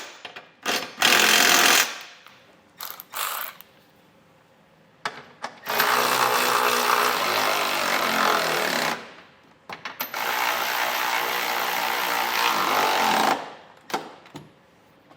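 Power impact tool driving trailer hitch bolts with a 17 mm socket on a 2020 Kia Sportage, in three loud sustained bursts of rattling, the first short and the other two lasting several seconds each, separated by brief pauses.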